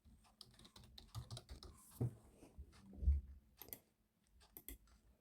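Typing on a computer keyboard while a page is set up in a website editor, with a dense run of close, uneven key clicks and a few heavier thumps, like the spacebar or enter key, with no talking.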